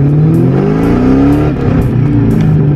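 A supercharged Ford Mustang GT with 4.10 gears pulls hard in first gear, its loud engine note climbing steadily in pitch as it revs, close and continuous with no voices.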